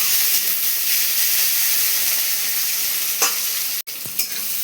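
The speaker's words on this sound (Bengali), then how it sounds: "এখানে টমেটোটা আমার ভাজা হয়ে গেছে" Blended tomato paste fries in a pan for a vegetarian curry, giving a loud, steady sizzling hiss throughout, with a couple of brief stirring scrapes near the end and no talk.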